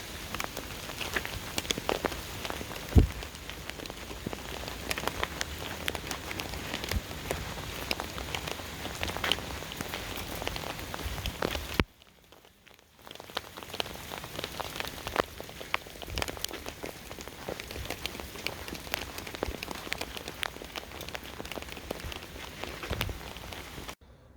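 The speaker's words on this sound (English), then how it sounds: "So now I've got hail bouncing off" Hail bouncing off a chip-shop roof or surface outdoors, a dense steady patter of many small hard impacts that fills most of the stretch, briefly dropping away to near quiet midway before resuming.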